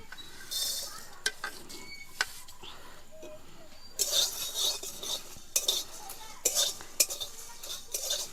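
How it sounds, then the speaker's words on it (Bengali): Whole coriander, cumin, garam masala and dried chillies fry in a hot kadai, giving a soft sizzle broken by scrapes and clinks of a metal spatula stirring, louder bursts in the second half. "দেখুন বন্ধুরা মশলাগুলো কী সুন্দর ভাজা হচ্ছে"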